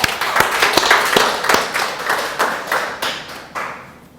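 Rhythmic group clapping during a Sunday worship service in a church, a fairly close, loud series of sharp hand claps in a regular beat that gradually loosens and thins out toward the end.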